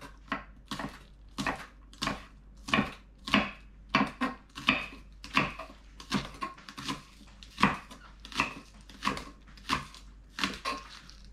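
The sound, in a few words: chopping green onions, peppers and carrot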